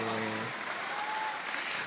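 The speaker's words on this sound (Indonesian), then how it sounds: "Kita kasih tepuk tangan yang lebih meriah lagi teman-teman semua." An audience gives louder applause during a panel discussion with Rocky Gerung. A voice speaks briefly at the start over continuous, even clapping that carries on to the end.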